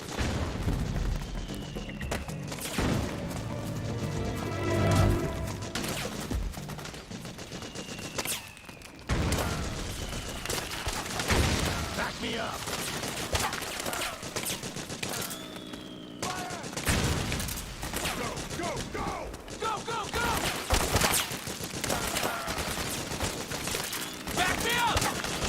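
Dense in-game gunfire from an enemy gun emplacement in Metal Gear Solid 4, a sustained barrage of rapid shots and booms that keeps going across the whole stretch, loud and close, with occasional voices talking underneath.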